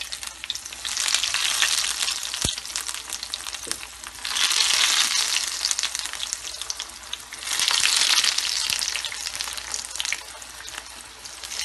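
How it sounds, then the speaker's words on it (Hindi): Snacks fry in about half a cup of hot oil with a loud, bubbling sizzle that swells and eases in waves, broken by a sharp clink. "अब हम इनको फ्राई करेंगे।"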